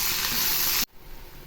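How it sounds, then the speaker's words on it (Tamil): Onions sizzling loudly in a hot iron kadai, a dense steady hiss that cuts off abruptly partway through and leaves a faint low background with no talk. "இரும்பு கடாயில் போட்டு செய்யும்போது தான் நல்லா நமக்கு சுருண்டு வரும், நல்லா வதங்கி வரும்."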